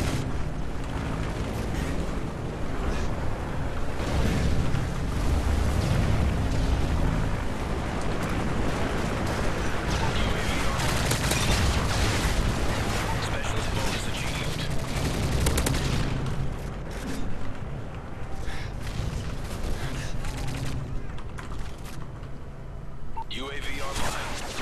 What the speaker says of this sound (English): Enemy strafe run inbound.